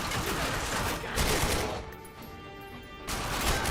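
Rapid gunfire against a helmeted enemy in The Darkness 2 comes as a dense, loud burst of shots, breaks off into a short lull, then resumes.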